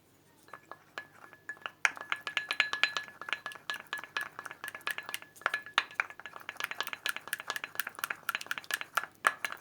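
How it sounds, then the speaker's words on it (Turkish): A utensil clinks and scrapes rapidly against a glass bowl while stirring homemade aloe vera cream, the bright ticking strokes close and continuous, quickening after a soft start, with no voices. "Ve bir güzel karıştıralım."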